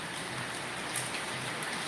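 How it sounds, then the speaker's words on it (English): Heavy rain pours down steadily during a big storm in Masbate, the Philippines, making a dense, even hiss throughout with no voices over it. "there's a big storm here right now"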